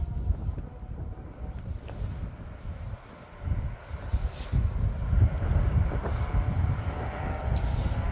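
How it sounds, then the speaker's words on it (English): Steady wind gusting across an open rally stage for the Carlisle Stages Rally, a continuous low rumbling buffet on the microphone that dips briefly and then rises again, with no voices. "The wind has picked up a bit of the breeze."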